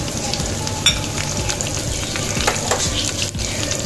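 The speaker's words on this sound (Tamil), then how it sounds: "இப்போ இதெல்லாம் பொரிஞ்சிட்ருக்கு" Three dried red chillies and spices frying in hot oil, a loud close crackling sizzle with a few sharp pops and light stirring, no talking.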